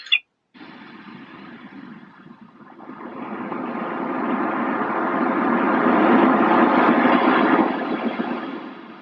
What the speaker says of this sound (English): I think that's waves, isn't it?